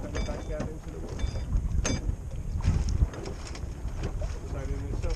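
A small model sailboat sails on water in the wind, with wind buffeting the microphone, water sloshing and light mechanical clicks and creaks over a few seconds.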